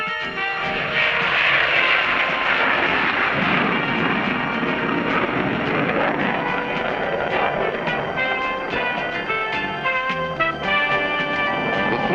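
An F-14 Tomcat's jet engines run with afterburners lit, a loud, dense, continuous roar that holds steady throughout with no breaks.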